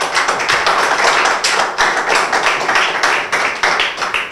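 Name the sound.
audience clapping, applause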